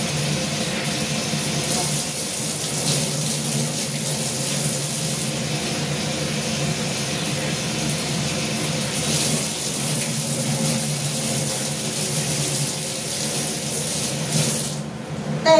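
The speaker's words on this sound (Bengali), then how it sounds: "পেঁয়াজটা আমি একটু ধুয়ে নিচ্ছি।" Sliced onion being washed under a running kitchen tap, a steady, close rush of flowing water that continues without a break, with no talking over it.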